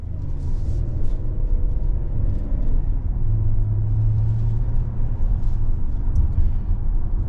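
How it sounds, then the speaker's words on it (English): A 2024 Hyundai Palisade Limited SUV cruising on the road, heard from inside as a steady, loud low rumble of engine and tyre noise with a faint hum and no speech. "we're on the road in this 24 Palisade Limited"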